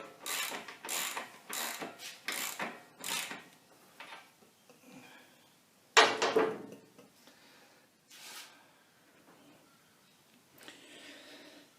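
Ratcheting wrench work on the chain adjuster of a 2006 Triumph America motorcycle: close, loud bursts of rapid clicking strokes repeat in a steady rhythm, then a sharp metallic clunk and a few fainter ratchet passes follow.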